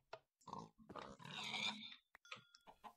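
Pigs in Minecraft let out a series of short, synthetic grunts and oinks in quick, irregular bursts, close and clear with no talking over them.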